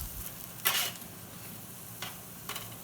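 Sweet potato fries on a hot tray from a 400-degree oven give soft sizzling and scraping as they are turned, in three short bursts over a quiet background hiss, with no talk.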